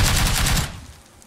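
Rapid automatic gunfire in the PUBG Lite battle royale game, a loud burst of evenly spaced shots that cuts off abruptly and leaves quiet background.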